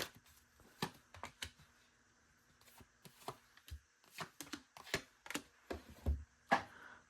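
Tarot cards are shuffled by hand in close, quiet bursts of crisp riffling and tapping, with irregular pauses between the rustles.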